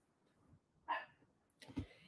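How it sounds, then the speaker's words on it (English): A dog barks indoors at a distance, two faint, separate barks over a quiet background with light room noise. "Why is my mom's dog barking?"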